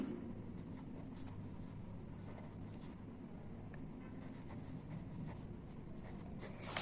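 Faint scratching of writing on a board during a geometry construction lesson, soft and continuous with small strokes and taps under low background hum.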